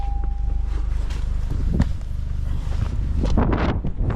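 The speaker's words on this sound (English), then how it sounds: "it's pretty windy." Strong gusty wind buffets the microphone outdoors near a small table, a steady low rumble with broadband roar that swells and surges, loud throughout with brief rustling and handling noises.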